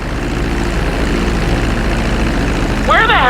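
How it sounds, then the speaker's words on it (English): Propeller airplane taxiing on a runway in GTA 5 flight school, a steady droning engine hum at moderate loudness, with a brief rising and falling tonal sweep near the end. "Now let's get the plane off the runway. Taxi over to the marked area and come to a complete stop."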